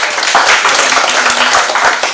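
Audience clapping for a guest at a Bawaslu election literacy training session, a dense, steady burst of many hands at close range, with a faint voice briefly audible underneath.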